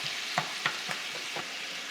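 Onions fry in olive oil in a pan for vegetarian spaghetti, with a soft, steady sizzle and a few light scrapes and taps as a spoon stirs and breaks them apart, faint and close.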